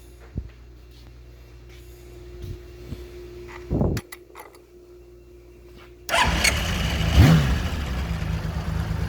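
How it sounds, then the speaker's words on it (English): A restored 1982 Honda CBX motorcycle with freshly cleaned carburetors cranks briefly and then fires up, settling into a loud, steady idle with a quick rev, close by and with no talk. "Really nice starter."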